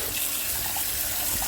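Cold water pours steadily into a vessel for bubble tea preparation, a continuous close splashing gush with no pauses.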